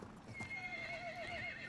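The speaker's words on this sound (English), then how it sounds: "Alright, let's take the horse." A horse in Battlefield 1 whinnies with a long, wavering neigh over rhythmic galloping hoofbeats and battlefield ambience, fairly faint in the mix.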